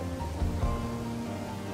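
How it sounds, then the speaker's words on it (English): Steady, faint rain hiss in The Oregon Trail video game, a soft continuous wash with a couple of low thumps early on; no talking. "And it's starting to rain."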